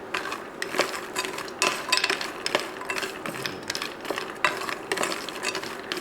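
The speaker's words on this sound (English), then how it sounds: "You want to stir the nuts, make sure that it doesn't get burned on one side." Nuts roasting in a hot, dry pan are stirred steadily, scraping and rattling against the metal in repeated strokes over a faint sizzle, up close with no voices.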